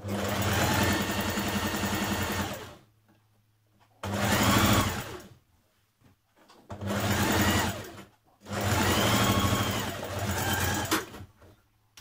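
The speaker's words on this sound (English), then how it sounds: "Stitch bodice front to bodice back at underarms." A sewing machine stitches a bodice front to the bodice back at the underarms, sewing a Simplicity 8052 top. It runs in three close, steady bursts of whirring stitching, each a few seconds long, separated by short pauses of near silence.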